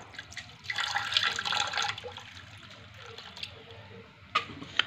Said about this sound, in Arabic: غادي نضيفوا هاد اطرو الماء هنا في الكوكوت على هاد القلب ديال السكر